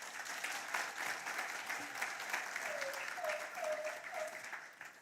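A crowd at an awards ceremony in Swakopmund, Namibia breaks into steady applause, many hands clapping in a dense wash, with a faint voice sounding briefly through the clapping.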